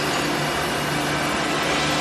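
A CNC face mill on a Mazak machine cuts aluminum castings at 4,000 RPM with a 100 inch-per-minute feed, making a loud steady whine and hiss with a constant hum underneath.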